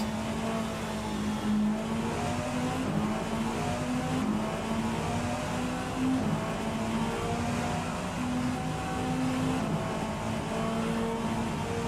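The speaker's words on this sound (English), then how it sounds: "I like the sound of downshifts in this, I'll say that. Got a real nice, crisp downshift." A race car engine in the racing game Rennsport drones at steady revs with repeated crisp downshift blips, a continuous loud engine tone shifting pitch in steps.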